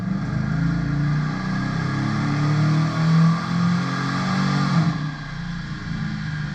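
A Chevrolet Silverado with a vortecMAX V8 and a new cam revs up toward 6,400 rpm, a steady droning engine note that climbs and swells briefly mid-run, then drops back as the throttle eases.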